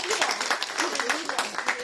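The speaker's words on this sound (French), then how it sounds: "Alors on applaudit Jésus qui est parmi nous" A church congregation claps during a Sunday service in quick, uneven bursts of hand claps, fairly close and moderately loud, with voices audible underneath.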